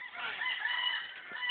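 A rooster crows once, a single drawn-out, strained call at moderate distance, heard on its own with faint background noise.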